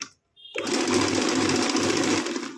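After a brief silence, an electric mixer switches on at high speed to beat black forest cake batter, holding a loud, steady motor whir and buzz for the rest of the clip.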